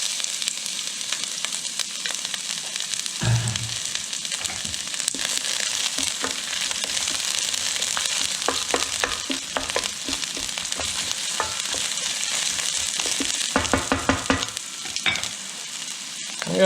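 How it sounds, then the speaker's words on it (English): Onion frying in hot oil in a pan gives a loud, steady sizzle that lasts the whole time, with occasional stirring scrapes and no talking. "Okay, I've got the oil hot in the pan, and we're going to start off with the onion."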